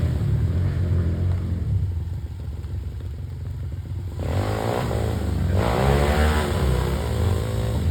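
A trail motorcycle on a hard enduro ride revs loudly nearby, its engine rising and falling in continuous rumbling bursts with clattering, and no voices.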